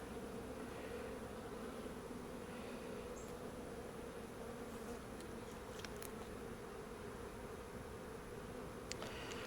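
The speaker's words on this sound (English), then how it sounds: "Shake the bees out that other box." Honey bees buzzing in an open hive being inspected for a failing queen and mites, a dense continuous hum close by with no talking.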